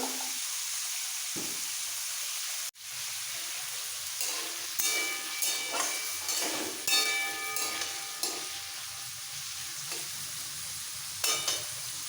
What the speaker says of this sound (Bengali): এই আলু গাজর ফুলকপিটা একটু ভালো করে ভাজার জন্য